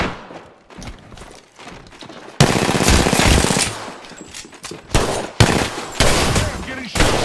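Rapid automatic gunfire in the video game Apex Legends, loud bursts starting partway through after quieter game sounds, with repeated rattling volleys and short gaps between them.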